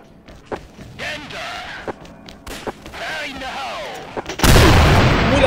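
Gunshots and a grenade blast in the online shooter XSHOT during a competition match: scattered thudding shots under a commentator's voice, then a loud, dense explosion burst at the end.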